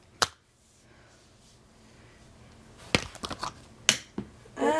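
Makeup products drop onto a hard surface during a blindfolded makeup challenge: sharp, close clicks and clatters, one early, then a cluster of small taps and knocks near the end, with quiet room tone between.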